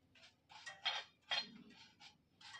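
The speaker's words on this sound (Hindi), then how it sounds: "इस तरह से मसालों को थोड़ा सा स्टर कर देंगे।" Microwaved whole spices being stirred for homemade garam masala, heard as a series of soft, close scraping and rattling strokes in a dish, fairly faint, with no talking.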